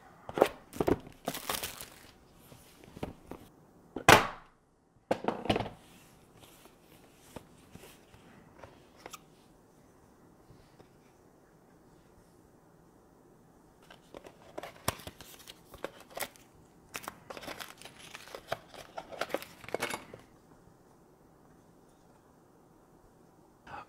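Packaging of a UniFi G4 Dome security camera being unboxed, with crinkling, tearing and rustling bursts in several clusters separated by quiet stretches, close and moderately loud.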